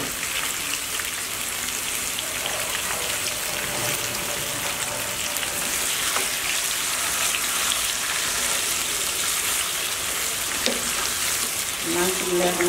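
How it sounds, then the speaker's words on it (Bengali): Chicken pieces coated in yogurt marinade sizzling and frying steadily in hot oil in a pan, a continuous crackling hiss with occasional stirring clinks. "মাংসগুলো এখন আমি একটু ভালো মতো কষিয়ে নেব"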